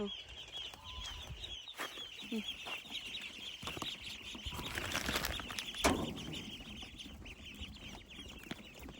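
Chickens cluck and a rooster sounds at a distance on a rural Thai farmyard, with wings flapping and scattered bird noise over steady background insects and faint voices.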